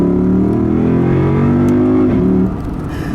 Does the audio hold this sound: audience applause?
no